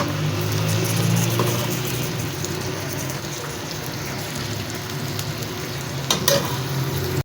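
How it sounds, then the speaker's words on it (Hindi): Sliced medium onion frying in hot oil, a steady close sizzle with faint stirring throughout and a brief louder scrape near the end. "एक मीडियम साइज़ का मैंने प्याज काट के इसको फ्राई कर लेते हैं।"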